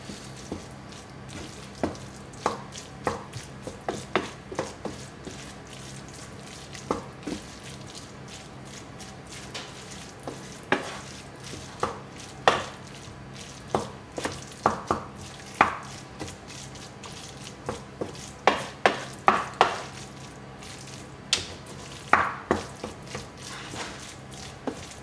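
Vegetarian stuffing for round courgettes is mixed in a bowl, with scattered wet squelches, taps and scrapes of a utensil, irregular and close over a quiet background.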